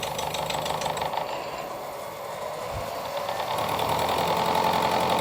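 CNC machine taking a half-thousandth cut on a bronze valve adapter: a continuous mechanical whirr with a thin tonal whine, steady throughout and growing slightly louder toward the end, with no voices.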